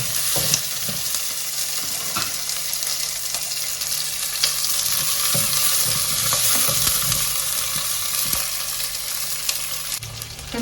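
Shallots, garlic and curry leaves fry in sesame oil in a pan, giving a steady, close crackling sizzle that runs unbroken throughout, with no talking.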